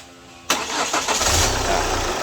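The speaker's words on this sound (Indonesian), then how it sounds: "Coba starter lagi." A Chevrolet Captiva diesel that has trouble starting cranks briefly, catches abruptly and settles into a steady, close idle rumble.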